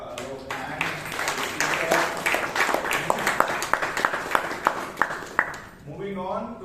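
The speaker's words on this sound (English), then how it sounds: "Please give a huge round of applause to evaluator Alok" Crowd clapping at a Toastmasters club meeting in Bangalore: a dense, lively burst of hand claps lasting several seconds, tapering off as a voice begins speaking at the end.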